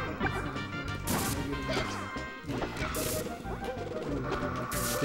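Down smash attacks landing in Super Smash Bros. 64, a loud burst of repeated smacking hits and crashes over busy game music and effects, with brief voice sounds mixed in.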